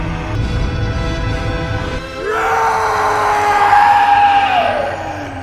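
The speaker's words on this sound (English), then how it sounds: "Enraged, the cannibal leader lets out a furious scream." The cannibal leader in a film lets out a furious scream, a long loud rising yell that takes over after a rumbling lead-in and holds for several seconds before fading.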